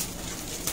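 A flying pigeon on a rooftop in Lyari, Karachi, coos softly and briefly, close by, with no talk.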